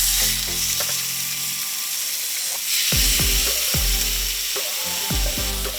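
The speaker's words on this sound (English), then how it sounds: "You wanna hear that sizzle?" Grouper fillet pan-searing in olive oil in a hot pan gives a constant loud sizzle and crackle, broken by a few dull knocks of a utensil against the pan.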